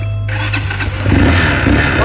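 A motorcycle engine starts up outdoors in cold weather, a short crank catching into a steady low idle that grows louder and rougher, close by, with no talking.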